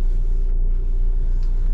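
Jeep Commander Overland with a 2.2 diesel engine idling and creeping while parking, a steady low rumbling drone heard close up inside the cabin.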